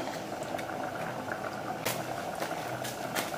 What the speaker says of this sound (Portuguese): Agora vamos deixar fritar aqui, né? A nossa cebola e o alho.